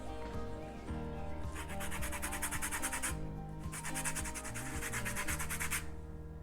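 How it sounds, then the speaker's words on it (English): Lemon zest is grated for blueberry muffins: brisk, rhythmic rasping strokes come in two long bursts, close and clear, over a steady musical background. "Now we're going to add lemon zest."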